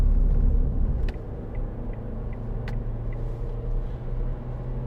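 A 2010 Ford Fiesta 1.4 Titanium petrol hatchback drives along with a low, steady engine and road rumble heard from inside the cabin, plus a few faint light ticks and clicks.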